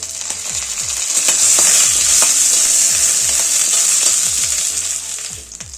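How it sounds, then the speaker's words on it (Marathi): Curry leaves hit hot oil with crushed garlic and ginger for a tempering, raising a loud, steady sizzle with repeated sharp crackles and pops throughout, no voices. "गोडलिंब टाकूया।"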